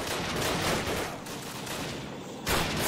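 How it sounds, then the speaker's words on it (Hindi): Gunfire rattles in a video game as a tank approaches, a dense continuous roar of shooting and rumble that fills the whole stretch and swells again at the end. "टैंक का साउंड तो आ रहा है पर टैंक का है"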